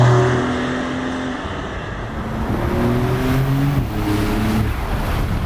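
A 2024 Porsche 911 Targa 4S of the 992 generation drives a winding two-way road, its engine a steady in-cabin drone with pitch rising and falling through the bends, no speech.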